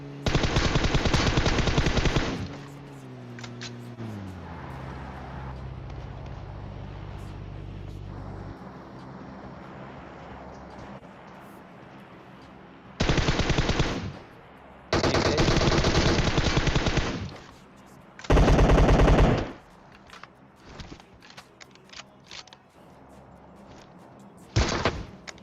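Bursts of automatic gunfire from the mobile battle-royale game PUBG Mobile come in loud, separated volleys, with quieter game ambience and engine hum between them.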